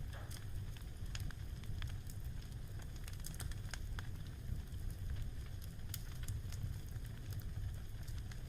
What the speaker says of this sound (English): the only sound being the crackling of the fire